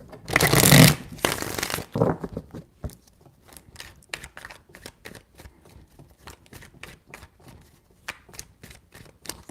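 Tarot cards are shuffled loudly in a brief riffle burst, followed by a long run of quick, light card taps and flicks close by.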